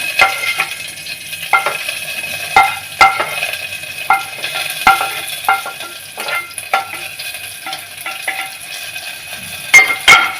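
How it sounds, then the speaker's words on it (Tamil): Onions sautéing with fenugreek, cumin and green chili, a light sizzle under frequent sharp clinks and scrapes of a spoon against the pan, irregular and close, with no voices. "இப்போ இதை இந்த வெங்காயத்தையும் இதில் நம்ம வறுத்து வச்சோம்னா இதையும் நம்ம இதுக்குள்ளே போட்டு முடலாம்"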